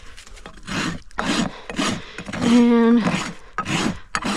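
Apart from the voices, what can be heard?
rasp filing a horse's hoof heels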